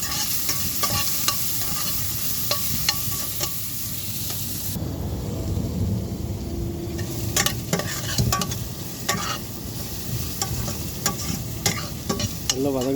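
Ground onion paste with green chillies sautés in a pan for a Tirunelveli-style fish curry, giving a continuous moderate sizzle under rhythmic spoon scrapes and clicks that pause briefly before resuming.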